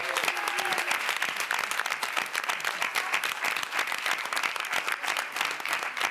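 An audience at a Cannes film press conference applauds steadily for about six seconds, a dense crowd of hand claps close by with no voices over it.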